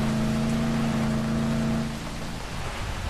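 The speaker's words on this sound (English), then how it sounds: "Oh, it's raining." Steady hiss of rain falling in the zombie video game Dead Island Riptide, with a low engine hum underneath that fades partway through, leaving the broad rain wash alone.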